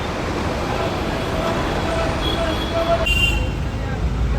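A new Vetoba Travels AC sleeper bus on its Borivali to Shiroda route pulls in with a steady, loud engine and road rumble. People talk nearby.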